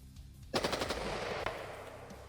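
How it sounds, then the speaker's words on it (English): Rapid gunfire from quick trigger pulls on a rifle, a burst of several sharp shots in fast succession, loud and close, ringing out after the first crack. "Watch how fast I can pull this trigger."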